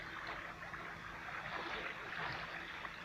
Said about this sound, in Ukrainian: Там тече дуже швидко. Дуже швидко течія йде.